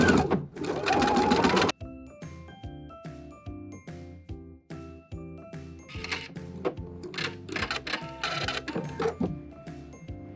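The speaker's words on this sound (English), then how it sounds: "we're going to sew from end to end with the overcast stitch" Sewing machine running an overcast stitch along a fabric stocking loop, a rapid mechanical chatter in short bursts that start and stop, close and fairly loud, with a brief denser whir at the start.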